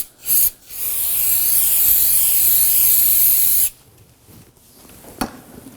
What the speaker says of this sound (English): We're going to spray a little bit.